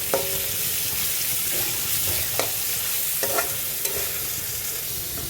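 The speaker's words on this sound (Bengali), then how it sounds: "আর হালকা এই যে জিরা আদা বাটা, একদম হালকা। এটা খুব ভালো করে কষিয়ে নিতে হবে।" Cumin and ginger paste sautéing in a pan with green chilli for a kakrol and potato sabji, a steady sizzle under repeated spoon scrapes and stirs, close and even, with no talking.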